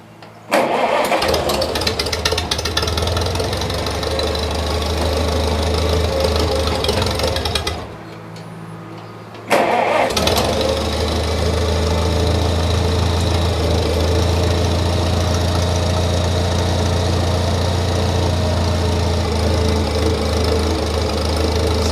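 A 1953 Farmall Cub tractor engine, neglected for two years, starts with the choke pulled and runs steadily and loudly, with a brief drop to a quieter idle midway before picking back up to a sustained mechanical rumble.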